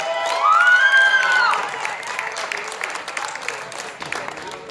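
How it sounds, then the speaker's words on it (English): An audience at a karaoke competition championship claps and cheers as a couple joins the stage, with a high whistle or whoop over dense applause that then continues more loosely. "big round of applause"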